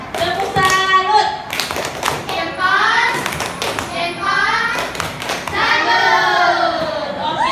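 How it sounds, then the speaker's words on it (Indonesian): A group performs a rhythmic "tepuk salut" clapping cheer in a classroom-style setting, sharp patterned claps and thumps interleaved with lively chanting voices, close and loud. "Tepuk salut."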